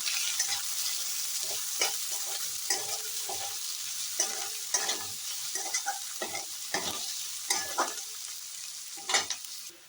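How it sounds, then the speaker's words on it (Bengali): Chopped onions fry in a pan while a utensil stirs them, giving a steady close sizzle broken by repeated scraping strokes, with no one talking. "এবার আমি দিয়ে দেবো কুচনো পেঁয়াজগুলো পেঁয়াজগুলো লাল হওয়া পর্যন্ত আমি ভাজবো"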